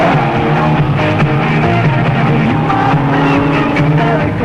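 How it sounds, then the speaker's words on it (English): A Mazda 323 rally car races in the 1993 Philippine Rally Championship, its engine roaring loud and continuous with gravelly road noise and shifting revs, close and unbroken throughout. "the biggest little brute of a rally car, the Mazda 323"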